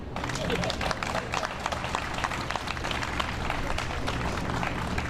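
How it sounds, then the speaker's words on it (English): Applause from an audience at a grant finalists announcement, dense steady clapping throughout with crowd murmur beneath it. "you can clap for that"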